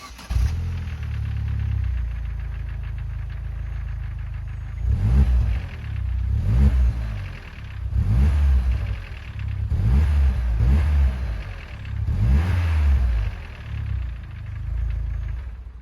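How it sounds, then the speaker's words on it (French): A car engine with its stock exhaust idles steadily, then is revved in about six repeated blips, each rising and falling, heard close and loud with no talking. "vous avez entendu la sonorité d'origine"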